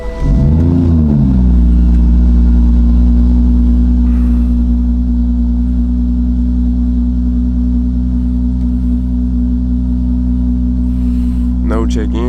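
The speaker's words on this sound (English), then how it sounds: "I'm gonna go for a drive right now." A BMW 440i, just back running after repairs, rumbles steadily as it drives off, a loud, close, constant low engine drone that holds for several seconds with a brief rev near the start.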